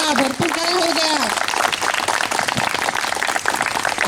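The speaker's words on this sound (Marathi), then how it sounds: "टाळ्या, भरपूर टाळ्या हो द्या" A group clapping outdoors at a garden gathering, a continuous dense patter of applause with a voice briefly calling out over it at the start.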